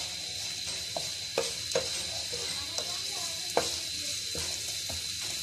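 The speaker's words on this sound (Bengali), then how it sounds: "এটা একটু হালকা বাদামি কালার ভেজে নেবেন পেস্টটা।" Spice paste frying in a pan for a Bengali egg dish, cooked until light brown: a steady sizzle runs throughout, with a spoon scraping and clacking against the pan a few times, close and clear with no talk.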